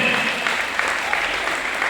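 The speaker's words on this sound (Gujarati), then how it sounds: "બધાએ હાથ ઉપર કરીને આપણે જોરદાર તાળીઓથી વધારીએ બાળકોને" An audience claps loudly for children at a school sports event held at a temple academy, producing dense, sustained applause with close crisp claps throughout and a faint voice underneath.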